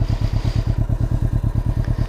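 Can-Am Ryker three-wheeler with a clutch/drive fault after a rear-end collision, giving a steady, rapid rhythmic clunking and thumping that pulses about eight times a second, loud and close, with engine hum underneath and no talk.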